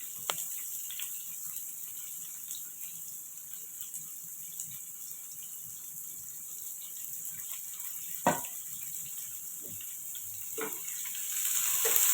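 Onions frying in oil for chicken biryani, a steady faint sizzle with a few sharp clicks and stirring knocks, no talk.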